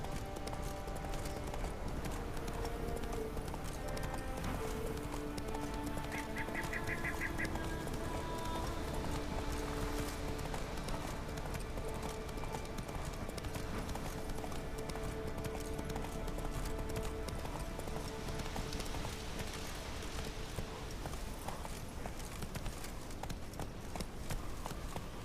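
Roach, Geralt's horse in The Witcher 3, gallops through a battle scene with steady, rapid hoofbeats under a dense, continuous wash of game music and effects.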